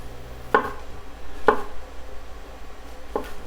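Three crisp knife chops through fresh mushrooms on a cutting board, cut into thick slices, spaced about a second apart and heard close against a quiet kitchen.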